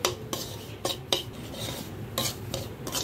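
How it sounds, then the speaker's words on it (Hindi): Rava (semolina) being stirred continuously in a pan over low to medium heat, with a few sharp spoon scrapes against the metal and a faint, steady rustle in between, close by, and no talking. "हमें रवा को कंटिन्यूसली चलाना है जब तक यह थोड़ा सा गुलाबी ना हो जाए।"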